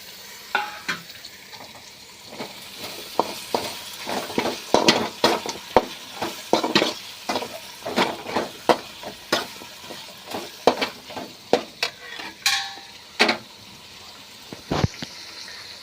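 Chopped tomatoes frying and being stirred in a hot pan for a kurma curry, with a steady sizzle and repeated scraping strokes of a spoon at an uneven rhythm, close by and with no talking.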